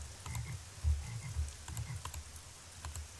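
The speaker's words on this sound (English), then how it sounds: "I heard a frog." A frog croaks in a garden in the Nancy Drew: Legend of the Crystal Skull video game, giving a few low, quiet croaks in a loose rhythm over faint ambient game sound, with no talking.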